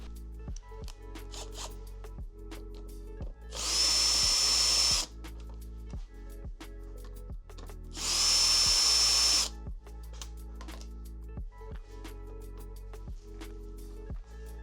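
Two separate whirring bursts from a power driver backing out two T20 Torx bolts from the fly screen of a BMW R1150GS Adventure motorcycle, each about a second long, close and fairly loud against a quiet background.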